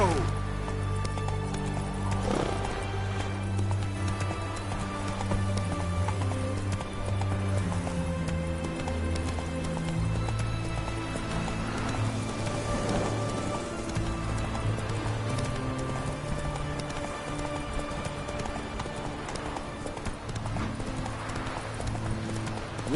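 Roach, the horse in The Witcher 3, gallops with steady clip-clop hoofbeats under game music and sounds, a voice speaking over the hooves in places.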